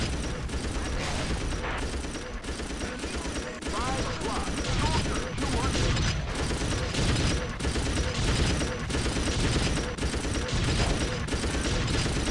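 Dense, continuous video-game gunfire and battle noise in a mission, with overlapping rapid shots and explosions filling the whole stretch loudly and a voice briefly heard amid the din.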